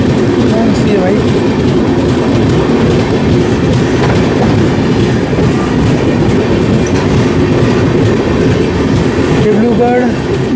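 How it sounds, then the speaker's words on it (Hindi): The Dibrugarh–New Delhi Rajdhani Express rumbles past up close, a loud, steady roar of rolling wheels and rattling coaches with faint clickety-clack running through the whole stretch. "Dibrugarh new Delhi Rajdhani express."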